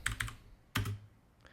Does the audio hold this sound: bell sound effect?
no